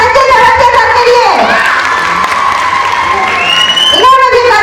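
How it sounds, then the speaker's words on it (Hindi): Crowd at a school annual function cheers, shouts and claps for a teacher receiving a best management teacher award, a loud continuous roar with children's voices rising over it and a voice talking through. "जोरदार तालियां संजय चौरसिया सर के लिए"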